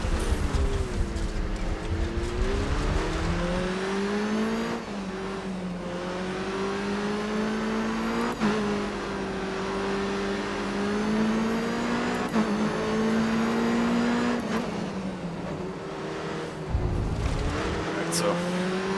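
Open-wheel race car engine revving and shifting through gears in Grid Autosport, loud and close, with brief tire squeal as the car slides during a lap; someone talks over it throughout.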